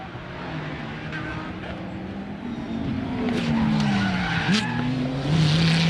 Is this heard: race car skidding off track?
yes